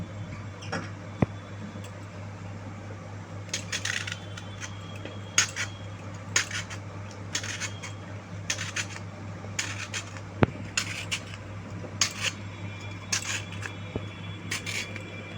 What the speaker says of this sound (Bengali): প্রথমে আমি পটলগুলো একটু ছাড়িয়ে নেবো ভালো করে